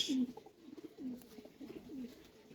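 Pigeons at a small pigeon tournament coo in soft, low repeated phrases, three cooing bouts spaced about a second apart, fairly close, with no talk over them.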